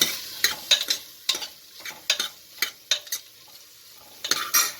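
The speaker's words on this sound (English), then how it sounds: "Mix well." Sambar vegetables, carrot and beans, stirred in a pot over heat: a run of sharp scraping and clinking strokes from a ladle against the pot, with a soft sizzle behind them and no talking.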